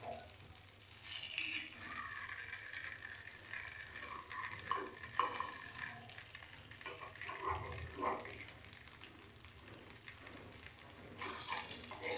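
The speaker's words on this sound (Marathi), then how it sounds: "हे सगळं आपण पलटी करून घेऊया" Appe being flipped in an appe pan with a utensil, soft repeated metallic scrapes and clicks over a faint, steady sizzle.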